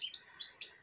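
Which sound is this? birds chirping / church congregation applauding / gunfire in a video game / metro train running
birds chirping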